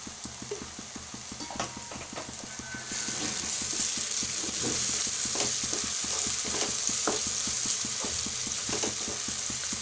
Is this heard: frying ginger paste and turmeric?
yes